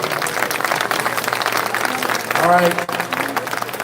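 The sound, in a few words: audience round of applause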